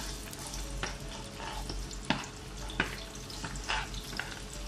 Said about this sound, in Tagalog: Gisa muna natin yung sibuyas.